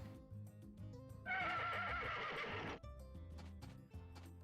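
A horse in the Story of Seasons farming game gives a loud, wavering neigh lasting about a second and a half, set over looping background music with light hoof clip-clops.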